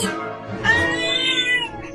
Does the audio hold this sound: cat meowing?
yes